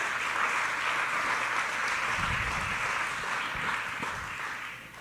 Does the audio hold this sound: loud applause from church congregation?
yes